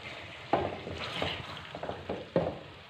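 Chicken karahi with cream stirred in a pan, a soft close sizzle with several sharp scraping strokes of a spoon spaced through it, no voices.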